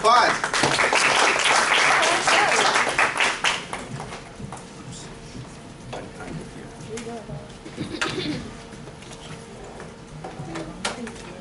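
Audience applause at a fundraising training event, a dense burst of clapping for the first few seconds that quickly thins and fades, leaving a quieter room with scattered sounds.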